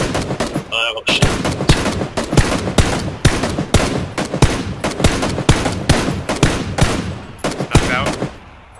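Rapid bursts of gunfire in the battle royale game PUBG, loud and close, firing in quick repeated volleys with brief gaps, while voices talk now and then over the shooting.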